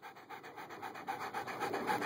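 A dog pants hard and fast after playing fetch, a close, rhythmic run of quick breathy huffs lasting a couple of seconds with no talk over it.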